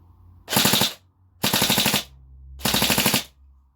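Three quick bursts of full-auto fire from a TM 416 D DEVGRU airsoft rifle, each a rapid rattle of shots lasting about half a second, separated by short pauses, close and crisp.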